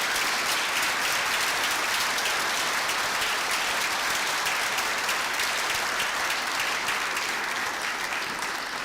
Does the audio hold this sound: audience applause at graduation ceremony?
yes